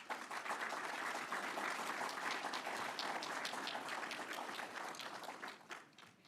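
A graduation and promotion ceremony crowd gives graduates a sustained, even round of applause that tapers slightly near the end, heard from a distance.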